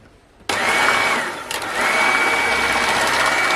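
Electric hand mixer switching on abruptly and whipping a homemade ice cream mixture, a loud steady whirring drone with a brief dip in pitch partway through, then running on evenly.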